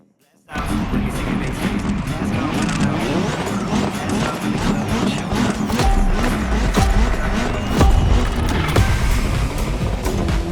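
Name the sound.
race car driving in The Crew Motorfest video game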